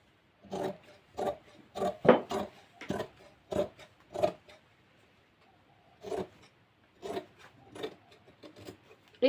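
Scissors cutting fabric along marked lines for plazo trousers, heard as a series of short crisp snipping rasps in bursts with brief pauses between, close up and alone.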